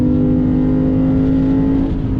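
A Lexus IS 500 F Sport Performance engine pulls hard under acceleration, a loud, close, steady roar with a rising tone and no talking over it.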